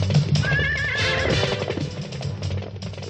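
A horse whinnies loudly and shrilly with a falling, quavering neigh, followed by breathy snorting and soft hoof clatter, set against an animated cartoon soundtrack.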